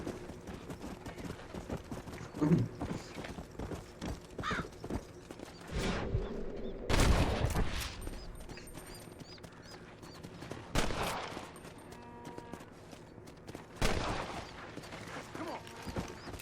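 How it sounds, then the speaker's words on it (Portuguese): Sharp gunshots crack at irregular intervals, some in quick bursts, over a busy backdrop of clattering and rumbling noise in the video game Red Dead Redemption 2. "Estou ouvindo tiros."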